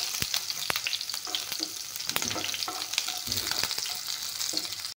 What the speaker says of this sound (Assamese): এতিয়া এইখিনি ভাজি ল'ম।